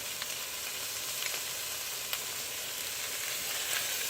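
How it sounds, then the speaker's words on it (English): Shrimp and cilantro sear in a hot pan for a stir fry, giving a continuous close crackling sizzle with small pops scattered throughout and no talking. "got our pan nice and hot, we're going to go ahead and start searing up some of these shrimp"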